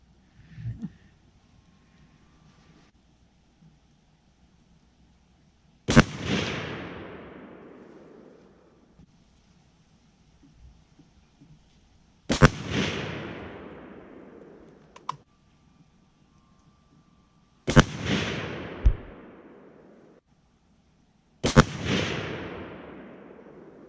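Four sharp rifle shots from a Sig Sauer SSG 3000 bolt-action rifle fired at targets on an outdoor range, spaced several seconds apart, each a crisp crack followed by a decaying echo, with faint clicks between shots.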